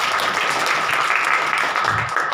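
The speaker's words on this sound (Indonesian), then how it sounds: "Kasih tepuk tangan dulu." A church congregation claps together during a Christmas service, a steady dense wash of applause lasting throughout with no clear individual claps standing out.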